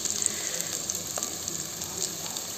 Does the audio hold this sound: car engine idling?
no